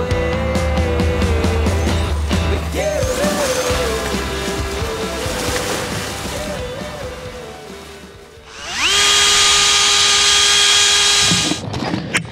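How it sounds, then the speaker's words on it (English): Power drill working out a stuck screw aboard a sailboat, close and loud, the motor whine rising and dipping in pitch through stop-start bursts, then a sustained high-speed run near the end. "So I was finally able to drill out this bad screw."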